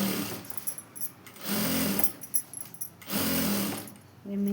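An electric sewing machine stitching the folded hem of a blouse, running in steady whirring bursts of about a second each with short pauses between, close and clear.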